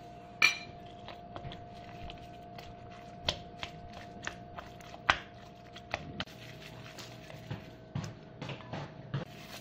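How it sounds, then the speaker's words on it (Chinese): A spoon clicks and clinks faintly against a bowl while minced veal is stirred together with ginger paste, the light taps scattered irregularly over a steady low hum. "每加一样东西都把它搅拌搅拌"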